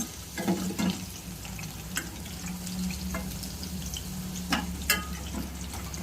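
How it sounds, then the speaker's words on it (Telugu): Moringa drumstick pieces frying in oil for a tomato and drumstick curry: a steady close sizzle with occasional louder crackles and spatters, plus a faint low hum underneath, with no talking. "ఇలా కొంచెం వేగితే ఆయిల్లోకి మునక్కాయ యొక్క జ్యూస్ వెళ్ళేసి ఆ మంచి టేస్ట్ వస్తుంది"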